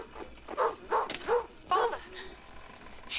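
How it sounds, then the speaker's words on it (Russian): A small dog in the horror game Maid of Sker barks and yips in a quick run of five or six close, sharp barks, then falls quiet apart from a faint trailing yelp. "Опять эта мерзкая дворняжка здесь."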